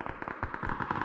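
Explosions from a grenade in a multiplayer shooter game, heard as a dense string of loud, rapid popping blasts close by, with a brief voice underneath.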